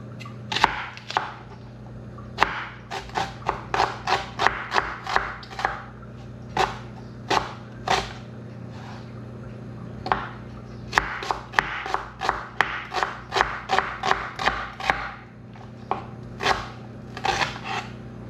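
A knife chops onions on a board in rapid runs of sharp, close taps, pausing briefly between bursts, with a steady low hum of background noise underneath.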